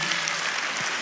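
Congregation at a church worship service clapping loudly and steadily throughout, a dense, continuous wash of applause filling the space.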